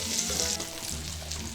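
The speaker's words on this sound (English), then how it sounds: "And you gotta let that fry." A Reuben sandwich sizzles and fries steadily in a pan, a close, continuous crackle with no talking.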